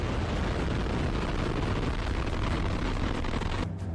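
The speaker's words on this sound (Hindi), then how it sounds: "उससे पहले रूस की इस नई लॉन्च मिलिट्री मिसाइल को देख लीजिए" A newly launched Russian military missile firing with a loud, sustained roaring blast of rocket exhaust, dense and continuous for several seconds before cutting off abruptly near the end.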